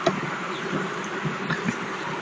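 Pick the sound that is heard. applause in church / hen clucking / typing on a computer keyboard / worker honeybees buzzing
worker honeybees buzzing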